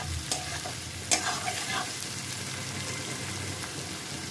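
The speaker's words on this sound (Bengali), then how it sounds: "সবজিটা আরেকটু ভাজা ভাজা হবে" Mixed winter vegetables and finely chopped green chillies sizzle and fry in a pan for chow mein, a steady crackling hiss broken by a couple of sharp spatula scrapes.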